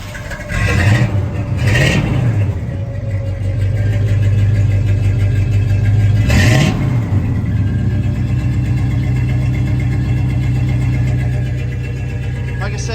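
A 1983 Chevrolet K10 pickup's 5.7-liter 350 V8 cranks and fires up, revs a few times, then settles into a deep, steady idle close by, with voices briefly heard.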